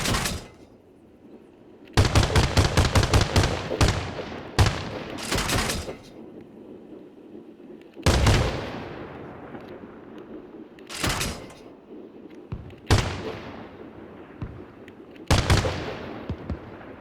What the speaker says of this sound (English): Now we've got 30mm armor piercing. Basic 30mm.